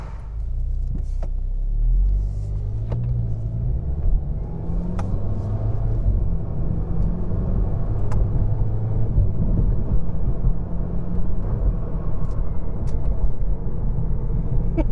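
A VW Golf R MK7.5 fitted with a CTS dogbone mount insert drives normally while the driver shifts gears, giving a steady, close engine and road rumble inside the cabin.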